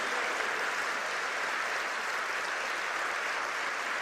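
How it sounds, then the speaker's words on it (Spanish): Church congregation applauding during a sermon, a steady dense wash of many hands clapping together, even and sustained throughout with no talk over it. "Vamos a darle un aplauso."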